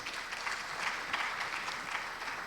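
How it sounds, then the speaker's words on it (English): Audience applause at a procurement workshop for small enterprises, a steady patter of many hands clapping at moderate distance, fairly soft and continuous, with no voices over it. "Can we have a round of applause for ma'am?"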